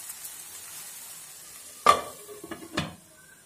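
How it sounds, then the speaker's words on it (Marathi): Masala cooking under a lid in a pan for pakoda curry, a low steady simmer broken by a few sharp clinks of metal, likely the lid or a spoon against the pan. "एक-2 मिनिटांसाठी झाकण झाकून शिजू देऊ मसाला"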